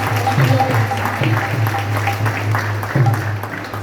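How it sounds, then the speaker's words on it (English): Audience applause after a Sunday feast lecture at a Hare Krishna temple in Toronto, scattered clapping over a steady low hum, with a few sharper claps standing out near the mic. "Let's give another round of applause for our amazing class."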